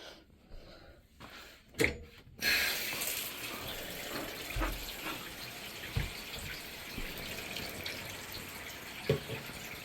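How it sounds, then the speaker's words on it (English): Shower water runs steadily while a dog is bathed, a broad hiss with a few brief splashes and knocks near the start, close and moderately loud with no talk. "Take a shower. Take a shower."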